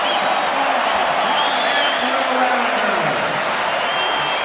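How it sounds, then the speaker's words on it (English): A lively arena crowd at the McDonald's All American high school basketball game roars and cheers in a steady, loud wash of voices, with whoops rising above the din. "This is a crowd that's having a lot of fun here."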